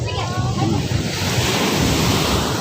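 Pacific Ocean surf rolls in along the Davao Occidental coast with a continuous, loud roar of breaking waves, roughened by gusting wind noise over the microphone.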